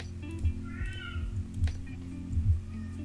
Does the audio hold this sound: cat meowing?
yes